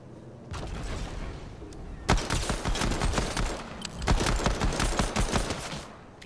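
Dense, loud bursts of rapid gunfire from the video game Fortnite, with sustained overlapping volleys running almost continuously and a brief lull between them.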